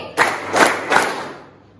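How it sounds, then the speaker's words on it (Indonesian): A class of children claps together in a few sharp, unison bursts, each clap ringing briefly in the room before a short fading tail. "Tepuk 4 kali."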